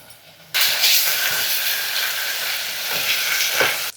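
Ginger garlic paste drops into a hot pan for boti biryani and breaks into a sudden, loud, steady sizzle that hisses continuously and then cuts off near the end.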